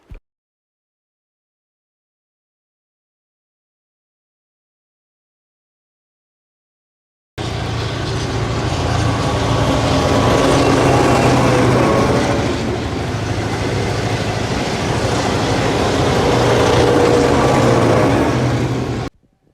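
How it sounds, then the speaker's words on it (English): A Tait train runs steadily on the Heathmont shuttles in Melbourne, heard close and loud after several seconds of silence, its rolling rumble and rail noise continuing to the end. "I quickly got a clip of the Tait on the Heathmont shuttles"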